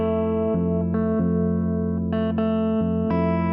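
Electric guitar plays two bars of a song, sustained notes ringing into each other with a new note picked roughly every half second, clean and close with a light shimmer.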